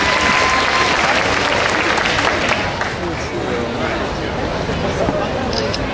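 A large outdoor crowd at a March Against Monsanto rally in Portland, Oregon, heard as steady, dense applause and cheering over a constant babble of voices that holds at full volume throughout.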